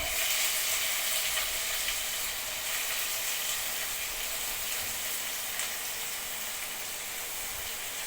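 Onion frying with mustard seeds, cooking until brown: a steady, dense sizzle and hiss that holds evenly throughout at close range, with no talking.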